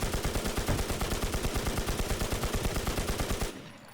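Rapid automatic gunfire from the video game NewZ rattles in a steady, evenly spaced stream of loud shots for several seconds, then cuts off abruptly, leaving only faint background.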